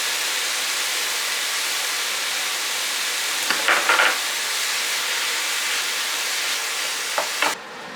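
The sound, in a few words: ground beef frying in a hot pot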